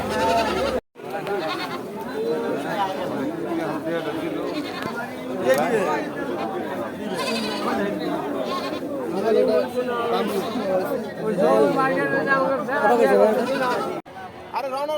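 A goat bleats repeatedly at a busy village livestock market, its calls close and loud amid steady crowd chatter and overlapping voices throughout.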